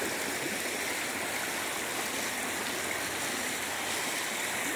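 A stream flowing around rocks as part of a stream improvement project, a steady, dense broadband rush of water that stays even throughout, close and continuous with no voices.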